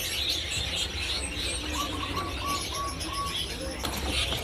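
A male blue robin (peledekan biru) kept among other stocked songbirds calls with a run of short, evenly spaced whistled notes, while other birds chirp and flutter around it amid steady background noise.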